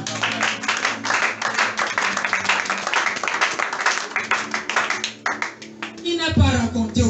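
A church congregation at a Sunday service claps together in dense, sustained applause, and a voice rises over the clapping near the end.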